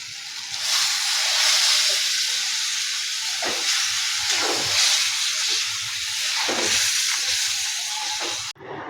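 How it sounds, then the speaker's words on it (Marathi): Water poured into a pan of frying bitter gourd bursts into a loud, sustained steaming hiss and sizzle, with stirring scrapes breaking through at intervals, close up for nearly nine seconds. "त्याच्यात पाणी टाकू आता आपण।"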